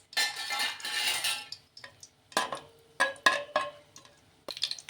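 Cloves and star anise dropped into hot oil in a pan, giving bursts of sizzling and crackling alternating with sharp metallic clinks and knocks of utensils, close and fairly loud, without talk.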